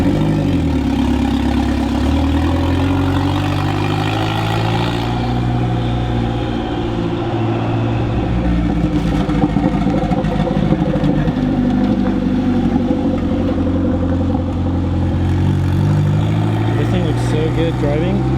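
A mid-engine Mitsubishi Eclipse fitted with a swapped engine idles loudly on its first start, giving a steady low rumble with slight fluctuations, while people talk over it.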